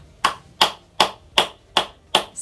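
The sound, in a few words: hands clapping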